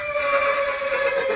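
A horse neighing as a sound effect on a French radio comedy show, one sustained whinny lasting over a second, loud and upfront with no talk over it.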